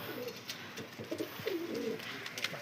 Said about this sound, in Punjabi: ਕਬੂਤਰ ਤੇ ਆ ਗਿਆ ਕਬੂਤਰ ਵੀ